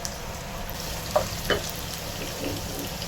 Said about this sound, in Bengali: এদিকে পেঁয়াজটাও ব্রাউন কালার করে ভেজে নিব